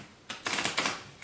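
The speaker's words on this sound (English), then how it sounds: "So we'll just do one more shuffle." Tarot cards being shuffled, a few quick crisp riffling bursts close by and quiet, with no talking.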